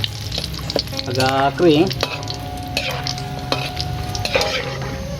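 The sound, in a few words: candlenuts frying in oil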